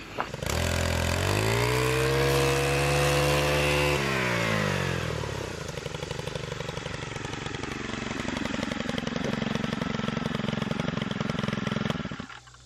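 A gas weed trimmer fitted with a Triclone blade cuts tall grass, its small engine revving to a loud whine, then dropping into a rough, buzzing load as the blade chews through growth, continuous and close before cutting off.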